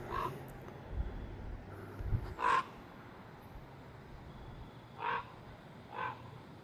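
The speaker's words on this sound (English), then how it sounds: "it's our resident hawk" Hawk calling near a house, three or four harsh, separate cries spread over several seconds against a quiet outdoor background.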